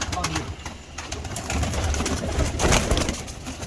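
Several Ferozpuri pigeons coo nearby in soft, repeated throaty calls, with a voice talking over them.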